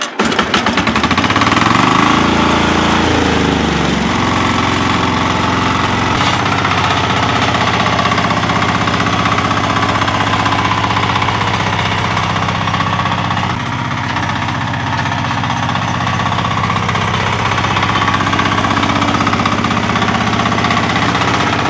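A Kama mini 4x4 tractor engine runs steadily up close, loud and continuous for over twenty seconds, with a rough, throbbing mechanical drone and no speech over it.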